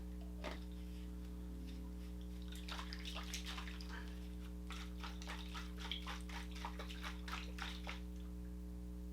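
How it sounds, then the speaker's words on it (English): Liquid sloshing in short repeated bursts as a Helimix 2.0 Vortex blender shaker bottle is shaken, over a steady low hum, with no voices. "Shake it like this, shake it like that."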